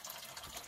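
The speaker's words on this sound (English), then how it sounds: "Leave the pail under there until all the water come out of this line." Water drains from a water heater valve into a pail in a steady, hissing rush, constant and fairly faint for under a second.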